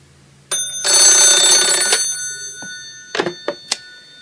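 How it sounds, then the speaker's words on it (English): An old dial telephone's bell rings loudly in a single sustained metallic burst of about a second, followed by a few short clicks and taps of the handset alone in a quiet room. "This is the dial phone."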